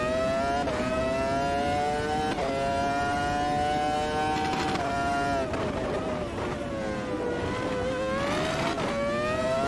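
A race car engine in the Automobilista 2 sim racing game howls steadily through a hot lap, its loud, sustained pitch rising and dipping with each gear change and corner, running continuously without a break.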